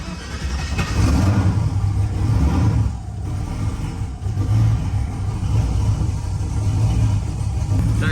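A turbo LS engine running on E85 fires up after fuel priming, catching abruptly and then settling into a loud, close, rough idle with uneven surges in revs.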